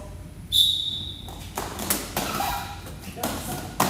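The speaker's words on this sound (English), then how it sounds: "So I'm gonna give a whistle." A coach's whistle at a TRD Monday night practice, a short shrill blast standing out briefly, followed by thumps, shuffling and people talking nearby.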